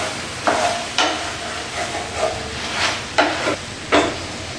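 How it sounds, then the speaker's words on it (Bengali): Nearly boiled vegetables being stirred in a pan, a low simmering hiss broken by about seven distinct scraping stirs at uneven intervals, close and moderately loud, no speech. "এইভাবে নাড়িয়ে নাড়িয়ে নেব।"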